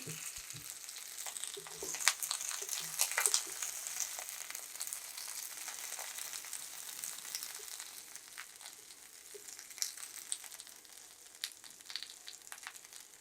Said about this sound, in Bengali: ভেন্ডিটা আমার ভাজা হয়ে গেল